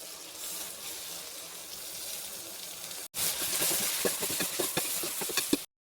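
Water poured into a pot of rice for vegetable pulao, about seven glasses for three and a half glasses of rice: a faint kitchen hiss, then after a brief pause a louder, steady splashing pour that stops abruptly.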